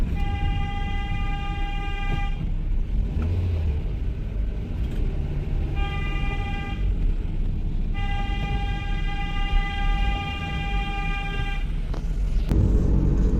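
A gas cylinder delivery vehicle sounds its horn on a street in Goa, giving several long, steady blasts separated by short gaps over a constant background of traffic noise.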